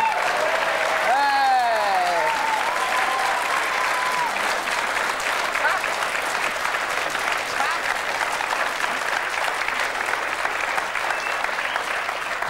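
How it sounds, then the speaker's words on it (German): A TV show audience gives a long, dense burst of applause that stays steady for over ten seconds. A voice speaks briefly at the start with a rising tone. "Jetzt können wir mal klatschen, oder?"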